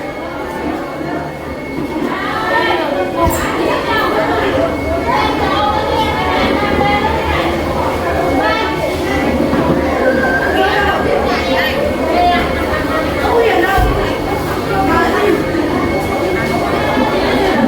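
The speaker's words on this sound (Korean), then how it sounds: "역시 시장이라서 조금 시끄럽습니다" Loud, dense crowd noise of a busy seafood market in Thanh Hoa, Vietnam: many overlapping voices chattering, with clatter and rumbling underneath, continuous throughout.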